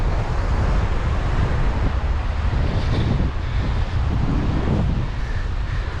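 Steady wind blowing outdoors buffets the microphone for the whole stretch, a loud continuous rumble and hiss with slight gusting swells and no talking.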